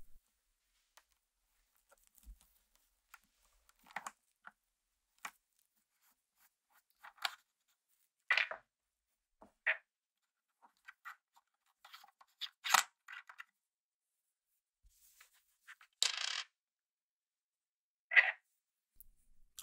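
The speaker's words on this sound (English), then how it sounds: "I unscrew the ring clockwise, remove the lever and washers" A small metal ring and lever are unscrewed and lifted off a Pentax ME Super camera along with tiny washers, making sparse faint clicks, scrapes and ticks spaced out over near silence.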